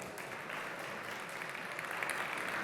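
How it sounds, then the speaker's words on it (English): Audience at a keynote talk applauds steadily, a dense wash of clapping that keeps going and grows slightly louder toward the end, heard from a distance. "let's give a warm round of applause to Mr."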